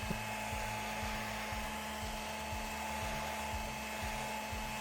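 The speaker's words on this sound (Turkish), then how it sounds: "Şu an saç kurutma makinesinin sesini de duyuyorsunuz." A steady hair dryer whir runs continuously at even volume, with a constant hum and a faint underlying rhythmic rumble.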